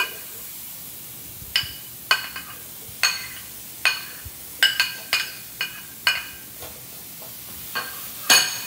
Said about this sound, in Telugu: ఇది కొంచెం మనకి మంచిగా ఫ్రై అవ్వాలి